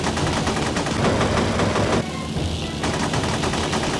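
Machine gun fire from Spitfires attacking a twin-engined Dinah aircraft over Vansittart Bay, loud rapid continuous bursts that pause briefly midway, then resume.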